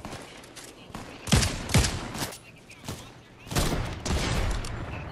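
Fortnite trios gunfire: sharp bursts of shots crack close by in quick clusters, with a sustained volley near the end, while players talk over it.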